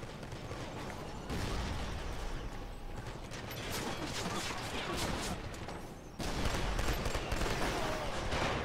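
Rapid gunfire from Killzone 2 online multiplayer on the Helghan Industries map, dense clattering bursts with mechanical clicks running almost continuously, growing louder in the last couple of seconds.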